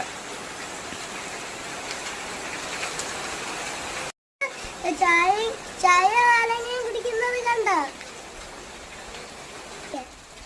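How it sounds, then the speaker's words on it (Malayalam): A heavy downpour hisses steadily and evenly. After a brief break, a voice speaks over the continuing rain. "നല്ല നല്ല മഴ"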